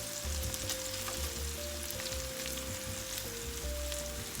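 Meatballs and vegetables frying in a pan, a steady, close crackling sizzle that runs unbroken throughout with no voices.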